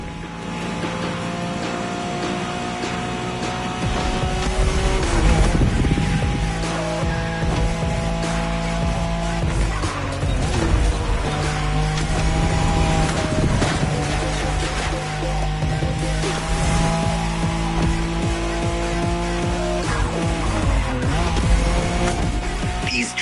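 A Nissan Skyline race car in a Wangan highway racing video game, its engine droning and rising through gear changes with brief tire squeals, sustained and fairly loud throughout.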